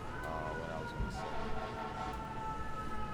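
A fire engine siren wails through a neighborhood, its rising and falling tone fairly faint and distant, with people talking nearby.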